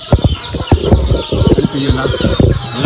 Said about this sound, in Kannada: ಇನ್ನು ಕೋಳಿಗಳೆಲ್ಲ ಹೊರಗಡೆ ಇದೆ